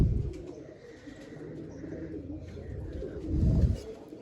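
Pet pigeons cooing in a loft, soft low repeated coos with some rustling and a louder burst of movement near the end.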